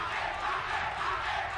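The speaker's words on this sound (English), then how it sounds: "And the crowd is going wild." A large arena crowd at a PUBG Mobile esports league finals roars and cheers continuously, a dense, loud wash of voices with no distinct words.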